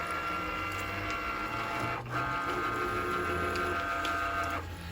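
A Cricut cutting machine cuts heat transfer vinyl with a steady mechanical whir and faint motor whine, briefly dipping near the middle before resuming; close, continuous and without talk.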